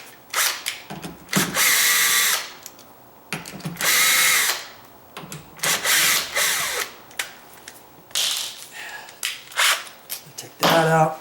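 A handheld power drill runs in repeated bursts of whirring and revving while adjusting a door, starting and stopping with short pauses between, close and loud, with some faint handling noises.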